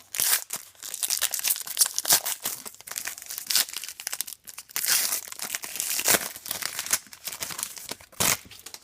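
Close, loud crinkling and tearing of a Topps Star Wars Rogue One Series 2 card pack wrapper, in bursts of rustling and crackling with brief pauses, with no talking.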